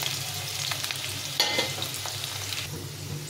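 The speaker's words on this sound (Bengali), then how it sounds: "সবার প্রথমে আলুটাকে ভালো করে লাল লাল করে ভেজে নিয়ে তারপরে বাকি রান্নাটা করবো।" Potatoes frying in hot oil give a steady close sizzle, with a brief louder spatter partway through as they are stirred in the pan, no voices present.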